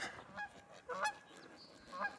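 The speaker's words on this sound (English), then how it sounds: "Big old goose there." A large goose on open water honks several times, each call a short nasal blast spaced unevenly apart, fairly close and alone over quiet outdoor ambience.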